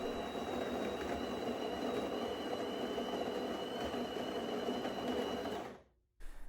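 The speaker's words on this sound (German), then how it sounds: "Während dem Mahlvorgang haben wir im Schnitt 71 Dezibel gemessen." A DeLonghi Magnifica S (ECAM 22.110.B) espresso machine grinds beans with a steady, loud mechanical whir that runs evenly, then cuts off abruptly near the end.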